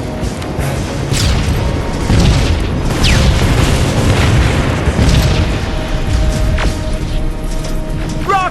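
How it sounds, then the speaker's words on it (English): Rocket explosions in the video game Terminator: Resistance, a sustained, loud rumbling barrage of booms and blasts with scattered sharper bursts throughout, continuous with no pauses. "Rockets! They're heading this way!"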